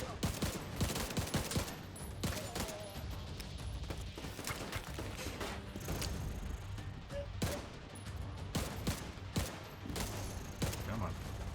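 Constant gunfire from The Division 2, with dense rapid shots and fusillades throughout, under game sounds and quiet player chatter.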